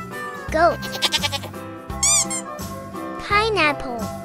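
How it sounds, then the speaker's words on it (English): A goat gives several quavering, nasal bleats, prominent and close, set against a rhythmic backing track of music. "Goat."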